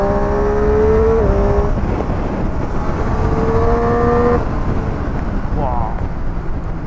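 A Triumph road motorcycle accelerates hard, its engine note climbing and dropping with each gear change. Constant wind rush runs underneath throughout.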